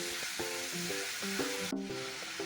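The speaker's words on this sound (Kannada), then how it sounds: "ನೋಡಿ, ಇವಾಗ ಚೆನ್ನಾಗಿ ಫ್ರೈ ಆಗ್ತಾ ಇದೆ." Grated ash gourd cooking with sugar in a pan for halwa gives a steady, bright hiss of frying. A simple melody of background music plays over it, and the sizzle drops away abruptly near the end.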